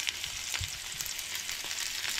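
Onion, ginger and garlic sauté in hot oil for a Goan mushroom curry, giving a steady bright sizzle with soft stirring scrapes and small pops throughout.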